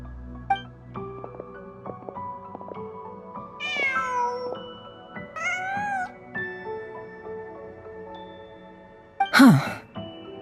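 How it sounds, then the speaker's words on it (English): A cat meows several times in a winter-night video game: three rising, wavering calls in the middle, then a sharp, louder yowl near the end, heard over soft, sustained ambient music tones. "Just a cat."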